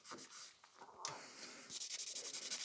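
A nail buffer scratches a Christmas nail tip in short, quiet rasping strokes, with a few sporadic rubs first and then a steady run of rhythmic scrapes.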